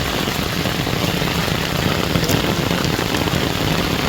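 Steady rain pours down on a house terrace in a dense, even hiss that holds unbroken throughout, with no voices over it.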